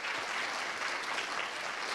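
An audience at a water safety summit applauds the water safety champions and award recipients with a dense, steady burst of clapping that fills the whole moment without pause.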